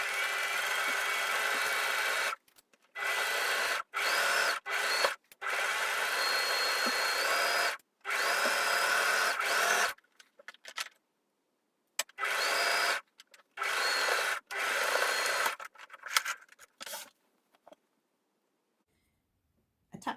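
Sewing machine stitching a T-shirt seam with pins in the fabric, running in repeated close bursts of steady whirring motor noise separated by short pauses, fading to sparse stops near the end.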